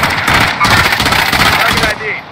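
Rapid machine gun fire from the Warzone video game, a loud dense burst running almost the whole time with brief gaps, under excited voices of players talking.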